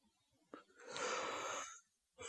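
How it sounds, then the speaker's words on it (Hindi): A long, breathy yawn from a woman in a close, quiet ASMR setting, rising to a drawn-out airy exhale before trailing off, followed by a short breath. "देखो मुझे उबासी भी आ रही है।"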